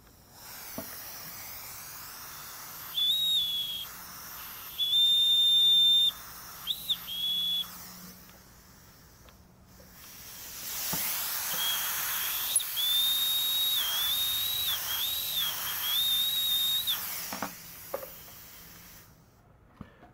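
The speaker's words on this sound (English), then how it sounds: "how I make the antler whistle. So I have my air compressor." A thin high-pitched deer antler whistle sounds in several short bursts, then a longer wavering blast, each driven by a hissing rush of compressed air from an air compressor.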